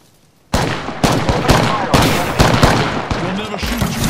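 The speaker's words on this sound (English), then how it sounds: "Taking fire, brothers." Gunfire in the battle royale shooter Apex Legends erupts suddenly after a quiet opening, followed by a dense string of loud, rapid shots and bursts under an in-game voice.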